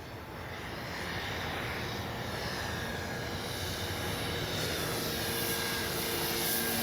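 A Hangar 9 J-3 Cub RC plane with a 10cc engine drones overhead in flight, a steady buzzing engine note holding at a constant level with a faint airy rush, no voices.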